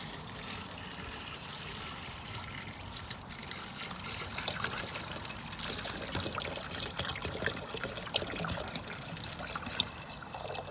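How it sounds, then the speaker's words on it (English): Water trickles and pours steadily into a container, a close, continuous splashing that grows a little fuller partway through. "it's not going to be perfect water when I pour it in"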